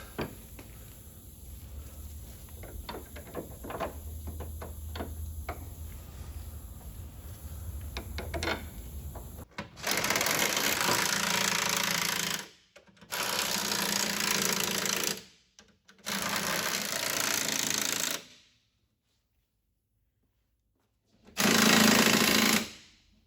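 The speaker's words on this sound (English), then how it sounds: "I'm just going to go ahead and start these bolts." A power tool drives bolts into a car's rear suspension during a chassis restoration, with quiet clicks of handling first, then four loud, sustained buzzing bursts separated by short pauses.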